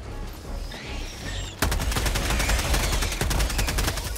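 Helldivers 2 game combat: a muffled, hazy stretch gives way abruptly to sustained rapid automatic fire, dense and loud, with heavier impacts mixed into the continuous stream of shots.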